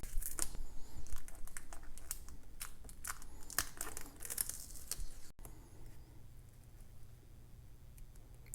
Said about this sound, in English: I'll pull this plastic up with the vinyl